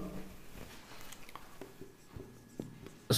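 Pen or chalk writing out a maths question, a series of faint scratchy strokes and taps at an irregular pace, close and quiet with no talk.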